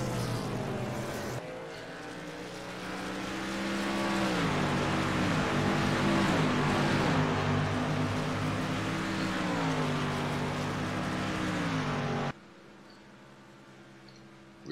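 Race cars lapping New Hampshire Motor Speedway in Loudon, a loud sustained engine roar with pitch rising and falling as cars pass, dropping abruptly near the end.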